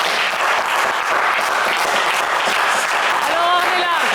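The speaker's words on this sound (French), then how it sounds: "on va l'applaudir bien fort" A studio audience claps loudly and steadily for a game-show contestant, dense applause filling the room throughout, with a voice rising over the clapping near the end.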